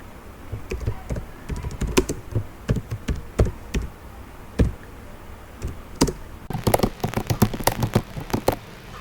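Computer keyboard typing while writing HTML code, a steady run of close, crisp key taps in uneven bursts, growing denser and louder toward the end.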